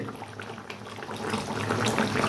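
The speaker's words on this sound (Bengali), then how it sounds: "তো বন্ধুরা এইভাবে আমি এখন মাছগুলো একটু ফুটিয়ে নেব গ্রেভির মধ্যে" Fish simmering in gravy in a pan, a steady close bubbling and sizzling that grows slightly louder toward the end.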